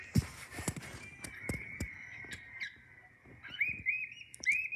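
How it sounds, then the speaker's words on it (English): A bird sings indoors with a steady run of high chirps and whistled trills. Sharp clicks and taps break in now and then, and the calls grow brighter toward the end. "Bird singing."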